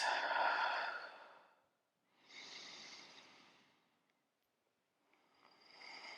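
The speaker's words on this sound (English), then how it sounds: "Breathing out." A person breathes out slowly during a hip reset stretch, soft airy exhalations coming in three gentle, drawn-out waves with quiet pauses between, close and faint.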